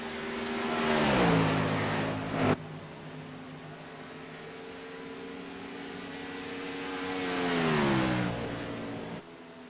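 Race cars circle the track, two loud engine passes each rising in pitch as the car approaches, then dropping and cutting off sharply as it moves away, with a quieter stretch between them.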